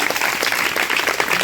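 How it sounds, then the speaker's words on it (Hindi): A brief burst of lively clapping from a crowd at a junior high school program, dense and even with fluttering individual claps throughout. "एक बार फिर से ताली"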